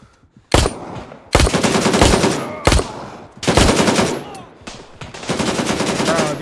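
Bursts of Glock pistol gunfire in the shooter game Gray Zone Warfare, four or five loud, close volleys of rapid shots separated by brief pauses, each burst harsh and crackling.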